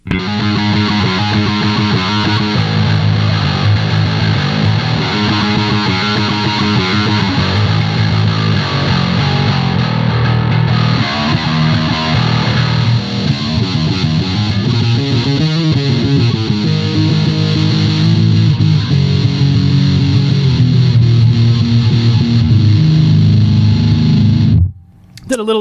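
Heavily distorted electric guitar played through a Metal Muff distortion pedal sounds continuously, thick and loud with a fuzzy, saturated tone, before cutting off abruptly near the end.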